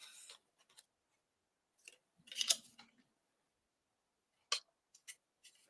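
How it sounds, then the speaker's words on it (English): Scissors trim paper at close range with a few short, quiet snips and rustles separated by silent pauses. "So now is your time to trim it off."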